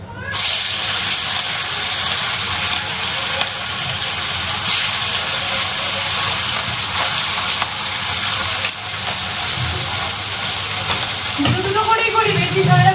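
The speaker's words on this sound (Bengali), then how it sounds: "তেলটা এদিকে পুড়েই যাচ্ছে, তো মাছটা ছেড়ে দিই।" Fish frying in oil hot enough to start burning gives a loud, steady, broadband sizzle and hiss that runs throughout, with a few louder bursts and some low clattering near the end.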